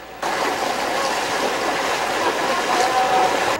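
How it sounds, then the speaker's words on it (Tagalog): River in Baco, Oriental Mindoro, widened and filled with large boulders after a typhoon, rushing over the rocks as a steady, close, broadband roar of water with no voices. "Kinailangan pa naming tumawid ng ilog na lumapad at napuno ngayon ng malalaking bato"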